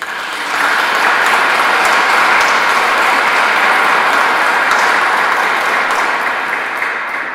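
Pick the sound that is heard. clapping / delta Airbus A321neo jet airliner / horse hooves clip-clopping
clapping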